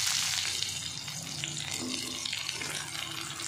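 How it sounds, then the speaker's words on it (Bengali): Chopped onion hitting hot oil in a wok, giving a steady, close, even sizzle and hiss that runs without pause and without talk. "কড়াইতে তেল দিয়ে দিয়েছি, তেলটা গরম হয়ে গেছে। এর মধ্যে পেঁয়াজ কুচি দিয়ে দিচ্ছি"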